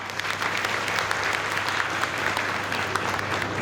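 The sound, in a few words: audience applause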